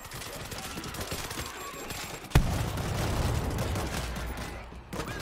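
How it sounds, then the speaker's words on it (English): In the World War Z video game, a sudden loud boom of a C4 charge blasting open a locked compound gate cuts through distant gunfire, followed by a lingering rumble, with faint voices in the mix. "A little C4 would crack that open."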